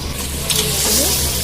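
Hot water poured into fried masala in a pan while cooking mutton paya, a close, loud hiss and sizzle that swells as the liquid hits the hot oil, with a voice briefly heard underneath.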